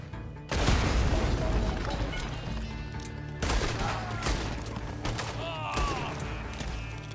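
Gunfire in the video game Red Dead Online during a starter-weapons-only Call to Arms fight, dense overlapping shots and booms filling the scene while someone talks over the noise.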